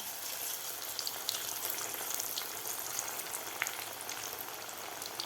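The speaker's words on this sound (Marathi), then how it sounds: "आता आपल्याला हे व्यवस्थित थोडासा गोल्डन कलर होईपर्यंत आपल्याला हे तळून घ्यायचे आहेत" Alu wadi, layered colocasia leaf rolls, deep frying in hot oil, a dense, even hiss of bubbling sizzle with occasional small pops, steady throughout with no voices.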